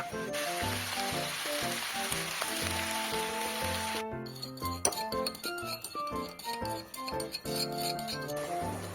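Shallots and chillies stir-fried for cashew chicken in a small cafe kitchen, a hissing sizzle with occasional clinks of utensil on pan under melodic background music, which takes over in the second half.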